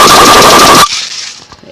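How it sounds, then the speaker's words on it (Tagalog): A pellet gun fires a loud, rapid rattling burst at close range that stops abruptly, leaving a short fading tail with no talk over it. "Pellet gun lang sa pellet gun. Pellet gun lang yan."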